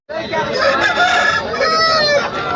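A rooster crows loudly and close by at a country chicken market in Mydukur, Kadapa, one long drawn-out call that holds steady for a couple of seconds.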